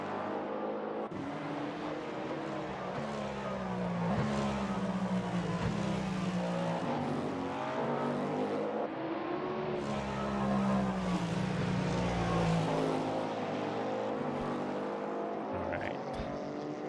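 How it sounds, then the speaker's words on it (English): Hypercars in Assetto Corsa race at Spa. Several engines drone and whine together, rising and falling in pitch through a run of corners, while a commentator talks over them. "these hypercars, they are flying through this sequence of corners"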